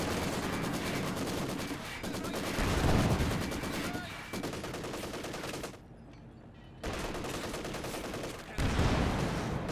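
Rapid automatic and rifle gunfire from a Company of Heroes 2 battle with conscripts firing, dense overlapping bursts that drop out briefly and return, loud and continuous.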